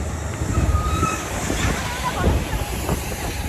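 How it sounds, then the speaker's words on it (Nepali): Strong wind on an outdoor trip at Jordhara buffets the microphone with low rumbling gusts that swell and ease, loud and continuous, and a voice can be heard faintly underneath. "हावा लास्टै चलेको हेर्नु"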